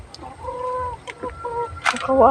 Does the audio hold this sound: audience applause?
no